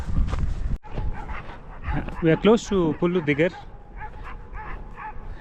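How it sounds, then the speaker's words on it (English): Dogs near Digar village in Ladakh bark and yelp in a quick cluster of sharp barks, heard under and between a person talking. "There will be so many dogs barking at you"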